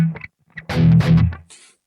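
Distorted electric guitar from an Epiphone Les Paul Special VE, a few short bursts of tight, compressed overdriven chords with brief gaps between them, close and fairly loud, with no voice.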